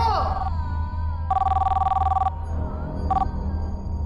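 Phone ringing indoors in two electronic bursts, a long trill followed by a short one, over a low background hum, with a voice briefly heard at the start.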